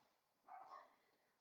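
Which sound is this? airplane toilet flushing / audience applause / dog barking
dog barking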